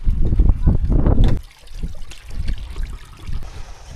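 Water trickling and gurgling where a full lake on Lamma Island, Hong Kong, spills out into the sea, a close, rough burst at first that settles into a softer, steady outdoor trickle.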